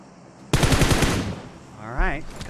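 A rapid burst of automatic gunfire in the video game PUBG Mobile during a tournament match, loud and close, followed by a quieter tail as a commentator speaks over it.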